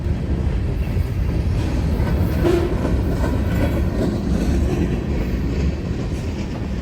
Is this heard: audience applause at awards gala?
no